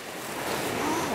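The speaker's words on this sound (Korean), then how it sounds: "시원한 파도 소리 여러분도 들리시죠?" Sea waves on the East Sea shore make a continuous, close rushing wash with no breaks.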